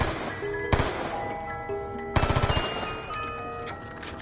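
Black Ops 2 video game gunfire cracks in two sharp volleys, a single loud shot and then a rapid burst of several rounds, over a steady ringing, tonal game soundscape.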